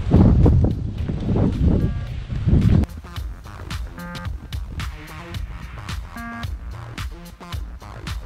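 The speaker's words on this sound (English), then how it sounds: "But it's windy, really windy." Strong gusty wind buffeting the microphone outdoors at a trout fishing spot, loud rumbling at first, then easing into lighter gusts with scattered clicks and knocks.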